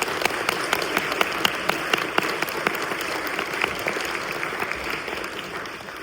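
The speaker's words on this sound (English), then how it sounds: "So let's do a big round of applause for our judges." A crowd applauds at a legal defense coalition event, steady clapping from many hands at moderate distance that gradually thins toward the end.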